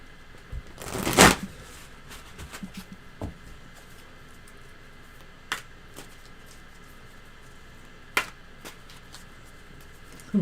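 Tarot cards shuffled by hand in one quick, close riffle near the start, followed by near silence broken by a few faint taps and clicks.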